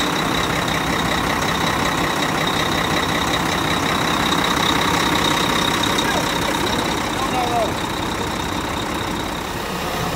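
A heavy truck stuck in mud idles steadily and loudly throughout before being pulled out, a continuous low rumble with a faint whine on top.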